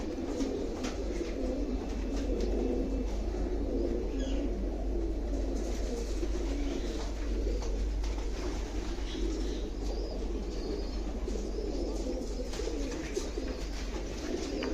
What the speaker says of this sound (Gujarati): તે બધા કબૂતરા હોય છે